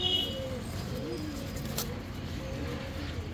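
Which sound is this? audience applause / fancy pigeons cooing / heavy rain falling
fancy pigeons cooing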